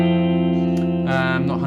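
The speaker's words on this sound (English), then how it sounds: "there's a lot of distortion stuff going on here" Heavy electric guitar chords drenched in distortion and overdrive ring out thick and sustained, then shift to a new, brighter chord partway through.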